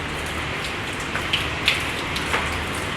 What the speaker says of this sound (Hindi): बारिश बंद ही नहीं हो रही है